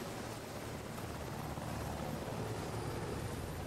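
A helicopter in the video game House of Ashes churns with a steady, moderately loud rotor drone that holds evenly throughout, with no voices over it.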